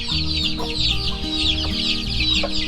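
A mother hen and young chicks around a month old keep up a busy, overlapping clucking nearby in a farm coop after stormy weather, lively and continuous with no voices.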